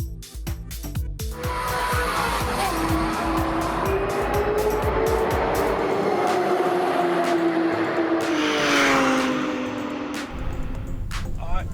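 A race car at roll racing at Sydney Motorsport Park drives hard with a loud, sustained engine roar that climbs through the gears, heard from close by with occasional tire noise and clicks over the top.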